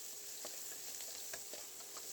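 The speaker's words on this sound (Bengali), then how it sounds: "আর একটা কড়াইতে দিয়ে দেবো তেল, পেঁয়াজ কুচি।" Chopped onion frying in oil in a wok gives a faint, even sizzle with a few light stirring scrapes and ticks scattered through the short stretch.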